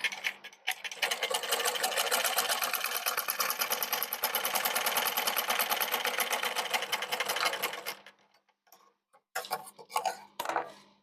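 Domestic sewing machine stitching fabric, running as a steady, fast mechanical whir with rapid needle clatter for about seven seconds close up, then stopping, followed by a few short bursts of handling clicks.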